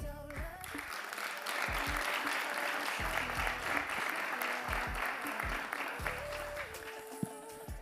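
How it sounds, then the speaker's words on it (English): An arena crowd at the Tlaxcala 2022 Hyundai Archery World Cup Final applauds the recurve women elite archers, steady massed clapping with a sustained musical tone and a bass beat running underneath. "please give a huge round of applause for your Recurve Women Elites"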